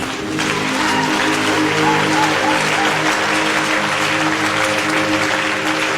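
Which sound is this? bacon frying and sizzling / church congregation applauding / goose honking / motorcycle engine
church congregation applauding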